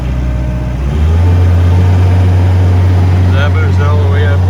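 A loader's diesel engine drones steadily up close, rising in pitch and loudness after a second as the machine moves forward, with a person's voice heard faintly over it.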